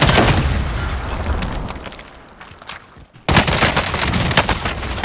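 Loud gunfire and blasts crackle in Call of Duty: Warzone, fade into a lull, then a sudden booming explosion bursts in and rumbles on.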